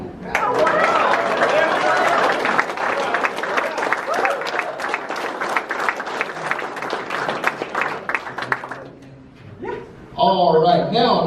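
A crowd at a masters lifting meet claps steadily and warmly for the winners for about nine seconds, then fades out. Talking follows.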